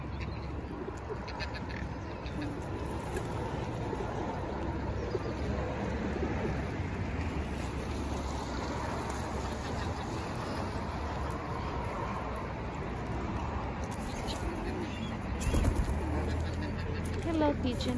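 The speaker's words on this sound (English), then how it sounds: "I'm about 1 foot away from these pigeons." Pigeons cooing about a foot away, soft low repeated coos mixed into steady outdoor bird chatter, with a brief louder bump near the end.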